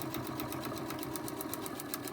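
A sewing machine stitching fabric for a free-pattern hummingbird project runs in a fast, even mechanical chatter of regular stitch pulses, steady and close throughout with no talking.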